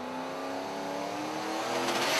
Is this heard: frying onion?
no